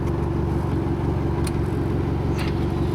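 Engine of an MG J2 car running steadily at a constant pace, a loud close rhythmic throb with a low pulsing beat, heard alone without talk.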